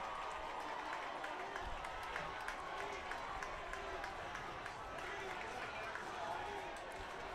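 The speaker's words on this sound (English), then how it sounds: "The Raider faithful fired up, trying to cheer on their defense for a stop." Home fans at a 2015 Hudson Raiders high school football game against Superior cheer and clap from the stands, a distant, steady crowd roar with a play-by-play announcer talking over it.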